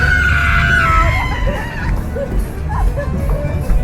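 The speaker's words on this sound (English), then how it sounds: "Screaming girls." Girls scream in a loud, sustained, high-pitched burst, several voices overlapping over a dense, noisy background that persists throughout.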